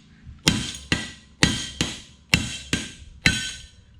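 Seven sharp metallic hammer blows on the teeth of a Massey Ferguson #42 sickle mower knife ring out at a steady, unhurried pace, each one leaving a brief metallic ring, close and loud.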